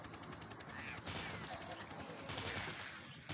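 Rapid gunfire from a shooter in the zombie game Dead Trigger 2, a dense continuous volley of shots with game sound effects layered beneath.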